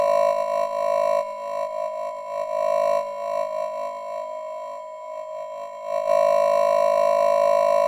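Sustained Noise Engineering Cursus Iteritas Percido synthesizer tones with a hollow, vowel-like resonance, steady and harmonic, shifting subtly in timbre over several seconds with no voices.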